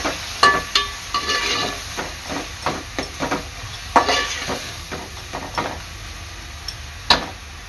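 Ground masala paste sautéing in oil in a pan for crab masala, with a soft continuous sizzle broken by repeated scraping and stirring strokes, close and moderately quiet, with no talk.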